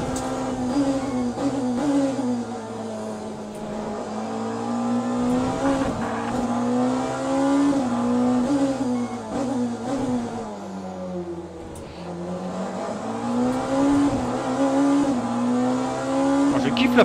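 Porsche race car engine in Le Mans Ultimate, loud and close, revving up and down through gear changes with a brief lift near the middle, a voice speaking faintly under it.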